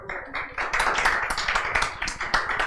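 Students in a lecture class clap together, a dense run of close, steady hand claps filling the room with no talk over it.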